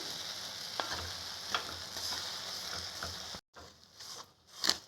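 Milk being stirred into bread kesari in a pan, giving a soft, steady sizzling bubble with occasional scraping strokes. Faint and close, ending with a brief pause and a few quieter clinks.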